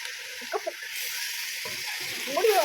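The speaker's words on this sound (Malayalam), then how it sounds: "ബീഫ് നന്നായിട്ട് കഴുകി വെച്ചിട്ടുണ്ട് അപ്പോൾ അതിലേക്ക് ഇട്ട് കൊടുക്കുകയാണ് ഇളക്കി കൊടുക്ക്" Washed beef pieces drop into a hot pan for a curry and get stirred, giving a soft, continuous sizzle with a few scraping and splashing touches, fairly quiet.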